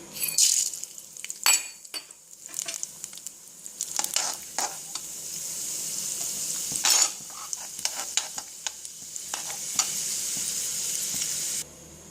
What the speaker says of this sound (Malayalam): എണ്ണ നന്നായി ചൂടായി കഴിയുമ്പോൾ കടലപ്പരിപ്പ് വറുത്ത് കോരി മാറ്റി വയ്ക്കുക